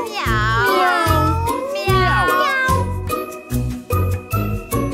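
A voice sings repeated meow-like notes, imitating a cat, over a bouncy musical accompaniment with bright jingling.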